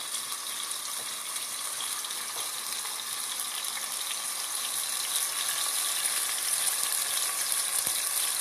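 Ginger and garlic frying in oil in a pan give a steady, even sizzle with a bright hiss that holds unbroken throughout, with no voices over it.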